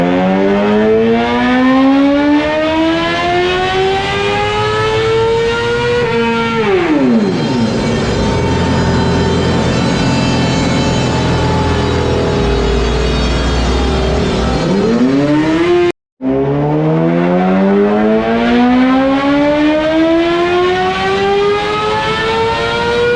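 A 2020 Suzuki GSX-R 750 motorcycle screams on a dyno, its loud engine note sweeping up through the revs, dropping briefly, holding high rpm, cutting out for an instant, then climbing hard again.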